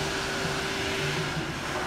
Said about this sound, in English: That dryer is too damn loud, bro.